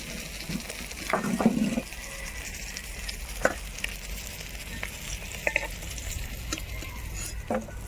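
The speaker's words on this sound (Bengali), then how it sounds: "মা লাল লাল করে মাছগুলোকে ভেজে দিচ্ছে" Chital fish frying in oil, a soft continuous sizzle with occasional sharper crackles and brief clinks of a utensil, fairly quiet and close.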